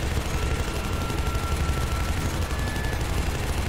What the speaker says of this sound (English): Apparently I have to shoot that chi crystal